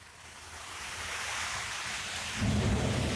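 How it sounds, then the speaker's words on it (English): Low thunder rumbles through a wash of rain and wind noise, building to a deeper, heavier roll near the end. "Are you hearing the thunder?"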